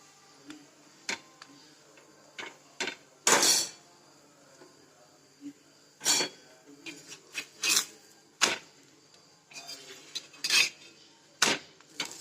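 Radish paratha pressed and roasted with oil on a griddle, heard as irregular sharp scraping and tapping clicks of a spatula against the pan, spaced across the stretch with brief louder bursts and faint background hum.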